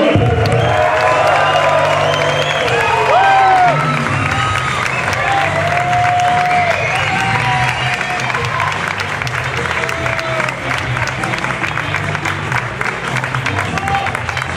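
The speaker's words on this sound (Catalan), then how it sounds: "fer una abraçada i un aplaudiment ben fort en Miquel Caimany i en David Aran" A loud party crowd applauds and cheers, with steady clapping, whoops and shouted voices layered over one another, sustained throughout at close range.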